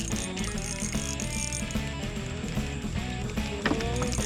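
A fishing reel's drag clicks in a rapid, continuous ratchet while a bass pulls line on a creek, loud and close.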